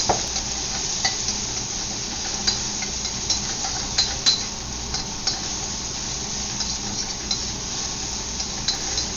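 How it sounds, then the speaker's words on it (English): Garlic and onion frying in leftover oil in a wok, a continuous close sizzle broken by repeated scraping stirs and light clinks of a utensil against the pan, no voices. "I'm just going to use the same wok to fry the garlic and the onion with the oil that's in there already"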